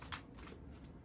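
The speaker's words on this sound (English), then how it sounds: "I started shuffling." Tarot cards riffle and slide against each other in a brief, faint shuffle, a soft papery flutter heard up close.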